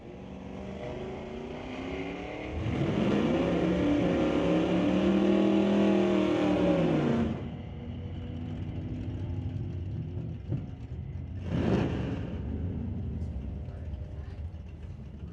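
A 2016 Subaru and a 1990 Mustang launch in a drag race, engines revving hard in a loud rising roar that swells and fades after a few seconds, followed later by a brief second pass of engine noise.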